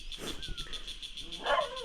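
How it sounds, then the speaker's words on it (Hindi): A dog in a rural village barks a couple of times at a distance, the calls faint over steady outdoor insect-like background hiss. "एक कुत्ता जो भौंक रहा है"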